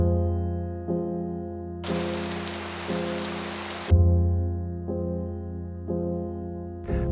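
Rain falls in misty Peak District hills as a soft hissing wash, in a burst that starts and stops abruptly over a steady, humming tonal drone.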